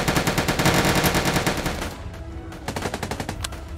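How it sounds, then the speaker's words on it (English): Sustained machine gun fire rattles across the street in the Soviet Soldier video game, a dense rapid burst for about two seconds, then quieter scattered shots with a few sharper reports near the end. "Shot from machine gun across the street."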